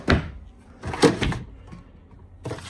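In a 2025 VIBE 2600RK travel trailer's rear kitchen, a pots and pans drawer is pushed closed, producing a few sharp nearby knocks and thunks in quick succession with short gaps between them.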